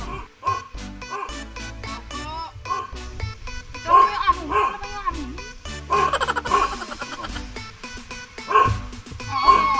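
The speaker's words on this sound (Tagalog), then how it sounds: "Aso naman yung sumalubong sa amin." A dog at a closed house barks repeatedly in loud, close bursts, mixing yips and whimpering whines in an uneven rhythm, with no talk over it.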